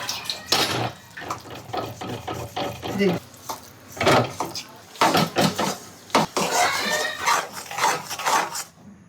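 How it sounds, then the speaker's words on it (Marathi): Tilgul mixture is stirred in a pan in a home kitchen, making repeated clattering scrapes and knocks of a utensil against metal, loud and close, with people talking between the strokes. "हे घे इथे हलवून हे टाकते आणि कंटिन्युअसली स्टीर कर"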